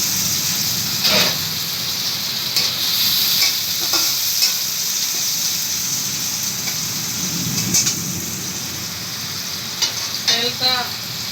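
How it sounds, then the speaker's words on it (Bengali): Onions fry in oil in a home kitchen during rain, giving a steady close sizzle throughout with occasional clinks and scrapes of stirring; no voices are heard. "তেলটা পেঁয়াজটা তেলে ভাজা হইতে"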